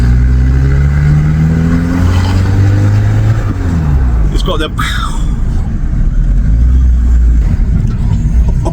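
A VW T4 van with a custom side exit exhaust drives along, its engine droning loud and close with a rising then falling pitch around a gear change, while a voice talks over it.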